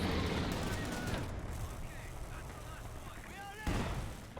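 Artillery barrage in Company of Heroes 2 during a 4v4 match, heard as dense rumbling shell fire with an irregular run of booming impacts and a sharper blast near the end, under faint commentary.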